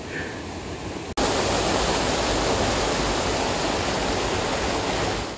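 Floodwater rushes after heavy rain, a steady, loud broadband roar of churning water close by that starts abruptly and holds without pause.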